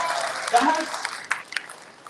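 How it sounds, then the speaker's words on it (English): A short burst of crowd applause at a SeaWorld wildlife show, rising near the start and thinning out as scattered claps fade under a voice. "That definitely deserves a round of applause."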